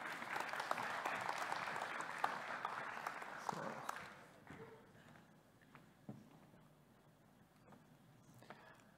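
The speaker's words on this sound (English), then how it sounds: "Round of applause, please." Audience applause at a tech talk on AI-driven text anonymization, steady and fairly full for about four seconds, then thinning into scattered claps and room noise.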